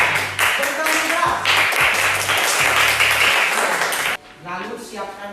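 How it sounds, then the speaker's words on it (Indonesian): Children in a classroom clap their hands together in a dense burst of claps under music, then the clapping stops and quieter speech-like sounds follow. "Kita tepuk tangan buat kita semua dulu, anak-anak kita."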